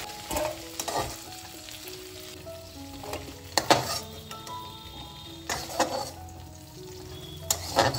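Fish curry masala with drumsticks and potatoes sizzling and frying in a pan, a steady close crackle broken by occasional stirring scrapes and light clinks of a utensil against the pan.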